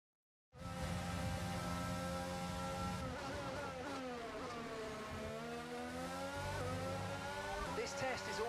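An F1 car in the F1 22 game drives a lap on medium tyres, engine whining loud and continuous as revs climb and drop through gear changes and corners, with faint tyre squeal.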